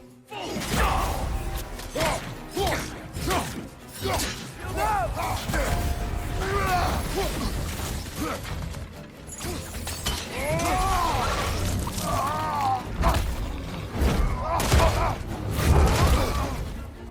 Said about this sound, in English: God of War combat is top notch. Just check this out.